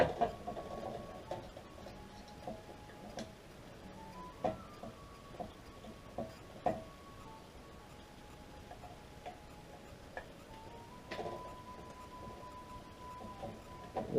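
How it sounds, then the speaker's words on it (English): A brass butt plate is screwed onto a muzzle loader stock, giving sparse close ticks, clicks and small creaks as the screwdriver turns, quiet and irregular with short gaps and no speech. "the brass plate on the rear, which I'm currently screwing in right now"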